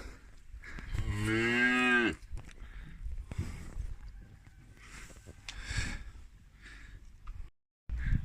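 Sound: young calves mooing in a farm pen

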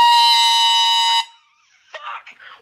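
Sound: air horn blast

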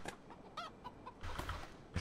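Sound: chicken clucking in the video game HumanitZ

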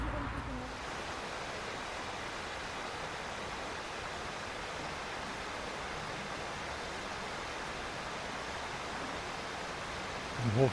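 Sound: Todtnau waterfall in the Black Forest

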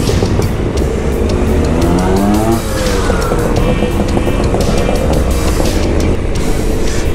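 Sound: two-stroke scooter engines riding

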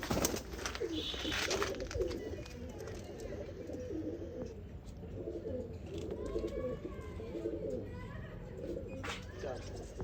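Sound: pigeons cooing

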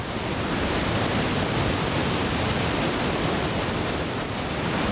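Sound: water rushing through opened floodgates, Hubbard Creek Reservoir

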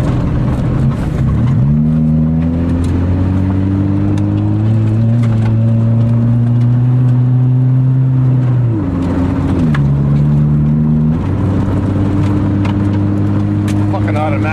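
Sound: 1990 Honda Civic automatic driving in winter

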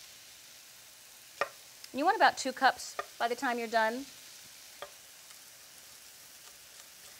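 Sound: mushrooms and broccoli sautéing in a pan

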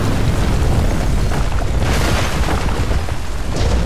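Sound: bomb explosion in Batman: Arkham Origins video game

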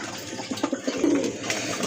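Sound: pigeons cooing

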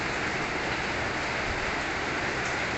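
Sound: rain falling

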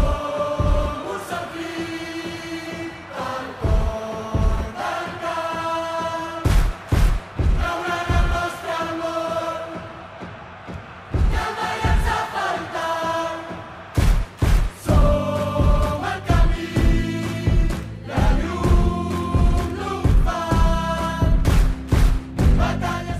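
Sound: FC Barcelona 125th anniversary anthem entry song

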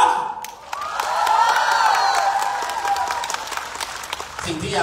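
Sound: audience applause and cheering

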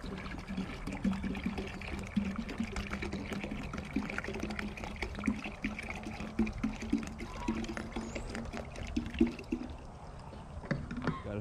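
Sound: water filling a container

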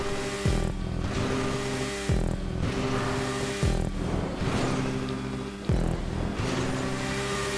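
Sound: motorcycle engine in GTA V video game

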